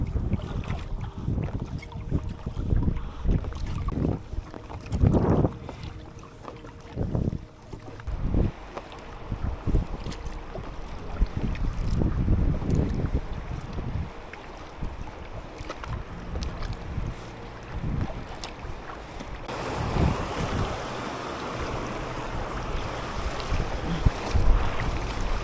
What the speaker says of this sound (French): Là on est vraiment vent dans la face.